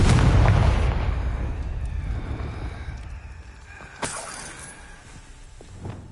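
Confringo explosive spell in Hogwarts Legacy, a loud blast that fades into a lingering rumble, followed by a sharp crack and a smaller pop.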